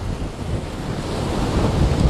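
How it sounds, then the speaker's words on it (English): Ocean waves crash and wash against a jetty on a beach in high wind, a loud continuous roar of surf with steady wind rumble buffeting the microphone, swelling slightly toward the end. "I do notice the waves on this side of the jetty, on the east side of the jetty, are a little smaller than the waves on the west side of the jetty"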